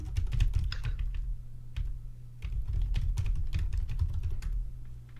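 Rapid, dense clatter of keys on a computer keyboard runs without pause, close and steady, with the sharp irregular ticks of fast typing layered over a low background hum.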